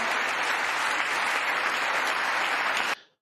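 Broad, steady applause from a large chamber audience at the State of the Union, a dense uniform roar of clapping that cuts off abruptly.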